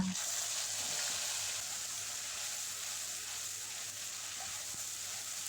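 Whole garam masala and cumin seeds fry in hot oil, giving a steady, close hiss and sizzle that holds through the whole clip and fades slightly toward the end.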